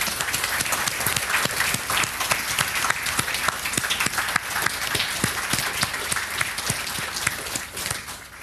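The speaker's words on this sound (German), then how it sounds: "Und ich würde sagen, die haben einen Applaus verdient." Audience at a Jugend hackt youth hackathon closing event in Ulm applauds the helpers, a dense, steady round of clapping sustained throughout with no talking.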